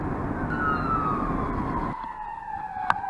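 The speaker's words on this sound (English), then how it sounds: "There's fire trucks and ambulances going around." Wailing sirens from fire trucks and ambulances moving around a town, heard from inside a driving car over road rumble, the rising and falling tones sweeping continuously and fading slightly as the vehicles pass.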